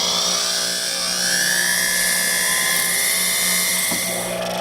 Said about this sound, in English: you're going to drill a hole with a round burr, and you got to go in straight